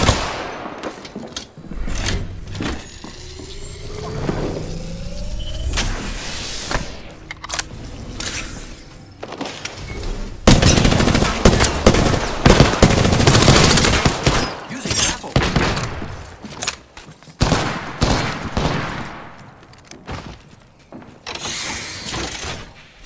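Gunfire in the battle royale shooter Apex Legends, loud bursts and rapid shots in uneven clusters alongside mechanical clanks, with a dense sustained volley through the middle.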